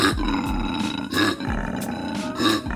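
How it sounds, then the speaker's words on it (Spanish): A koala gives a series of deep, rasping bellowing roars, repeated rhythmically like snoring grunts and close up, with no talk over them. "nunca habías visto, o mejor dicho escuchado, a un koala rugir, o al menos hacer un sonido muy extraño"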